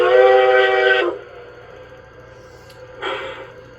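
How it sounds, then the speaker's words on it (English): A short steam whistle blast from an LGB 2019S model locomotive with a Zimo MS950 sound decoder, lasting about a second, then a quieter second toot a couple of seconds later. "F4 is the short whistle."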